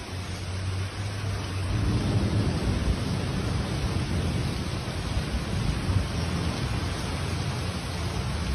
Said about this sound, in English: Thunder rumbled between the ancient monuments.